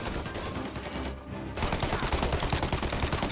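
Gunfire in Mafia Definitive Edition, a steady string of rapid shots that pauses briefly and then resumes heavier, fairly close, with no speech over it.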